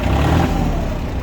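The engine of a Yanmar AF24 Japanese mini tractor runs at a low, even idle, a steady mid-pitched hum heard up close.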